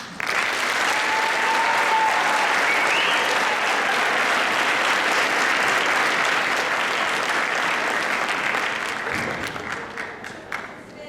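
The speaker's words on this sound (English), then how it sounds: "let's give a big round of applause to Mr. and Mrs. Alston" A large audience at a high school Black History program claps loudly and continuously, a full sustained roar of hands that thins out only in the last couple of seconds.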